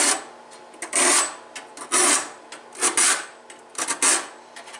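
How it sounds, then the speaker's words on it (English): A hand file rasping across the teeth of a Woodmizer LT15 sawmill blade, rhythmic scraping strokes roughly once per second, close and fairly loud with no talking. "when I put this file on there, I'm filing down"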